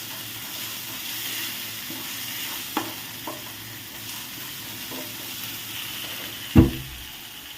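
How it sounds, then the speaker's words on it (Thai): A steady sizzle of Thai curry paste stir-frying in a hot pan, with occasional scrapes and one sharp clank of a utensil against the pan. "แล้วก็ผัดให้หอมนะคะ"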